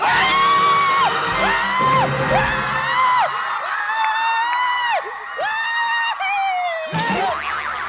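A crowd at a televised Thai star-search contest whoops, yells and cheers loudly and continuously with shrill excited voices, right as a runner-up result is announced, with brief bangs and dips in the din.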